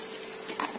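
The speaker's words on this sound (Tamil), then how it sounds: "இதெல்லாம் சேர்த்து நல்லா வணக்கி விட்டுடுங்க" Spices and masala for an egg masala sautéed in a pan, a soft steady sizzle with faint stirring scrapes through a brief moment, no voices.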